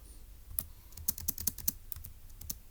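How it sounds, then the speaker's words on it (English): Typing on a computer keyboard while entering a puzzle answer, a quick, irregular run of crisp key clicks spread over a few seconds, close and fairly quiet with no talking. "Let's go ahead and type that up."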